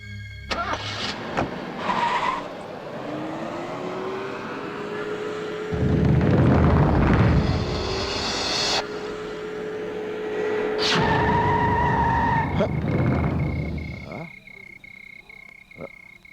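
A car passes and pulls to a stop in a night scene from a Hindi horror-romance film, its engine rising loud and close, then idling down before the motor cuts out, with brief thumps around the stop.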